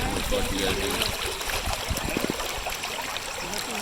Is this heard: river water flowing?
yes